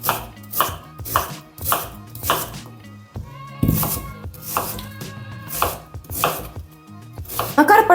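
Steady knife chopping onion on a board, quick bursts of cuts in a loose rhythm with short pauses, close and clear with no talking.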